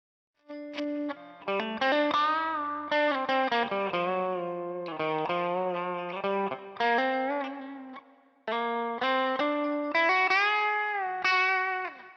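Electric guitar through a Horizon Devices Precision Drive overdrive pedal, drive set all the way down, plays a run of sustained, gritty chords and notes, loud and alone, with brief gaps between phrases.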